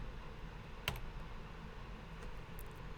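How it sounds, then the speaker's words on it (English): A single sharp click as the backslash key is pressed on a computer keyboard, one close tap in an otherwise quiet room, with a faint second tick near the end. "So now if I hit the backslash key on my keyboard,"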